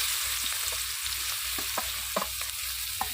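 Onion frying in hot oil with nigella seeds in a pan of chandni fish curry, a soft continuous sizzle broken by regular scraping strokes of a stirring spoon.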